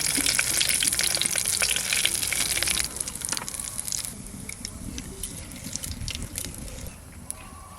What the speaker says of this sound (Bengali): ফোড়নে দেবো শুকনো লঙ্কা আর জিরে।